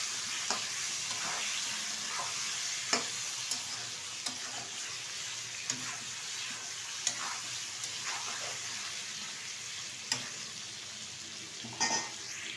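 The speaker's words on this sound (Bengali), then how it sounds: "এখন দিয়ে দেবো ধুয়ে রাখা এই যে চিকেন, এটা ভালো করে ভেজে নেব।" Washed chicken pieces frying in oil in a pan for a Barisal-style curry, a continuous soft sizzle punctuated by stirring scrapes and occasional clinks of a utensil against the pot.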